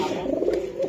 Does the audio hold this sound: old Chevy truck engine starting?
no